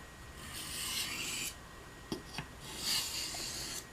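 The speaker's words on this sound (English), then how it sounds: "give it a few more passes on this stone." A knife blade drawn across a sharpening water stone to remove a leftover burr, heard as soft rasping strokes close up, with a couple of brief sharp scrapes partway through.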